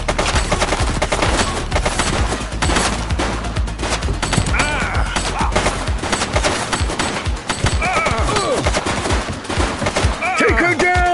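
Gunfire fills a shootout in the police game The Precinct on PS5, with rapid, dense bursts of shots continuing throughout and voices shouting among them.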